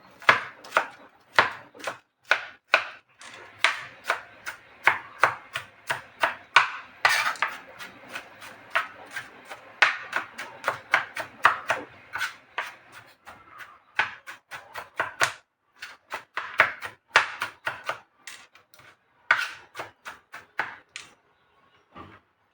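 Garlic is chopped with a knife on a board in a long run of quick, crisp taps, steady and fairly close, with short pauses and an uneven rhythm, and no talking.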